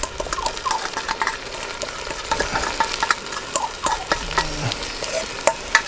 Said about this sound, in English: Hear it sizzle a bit as it goes in.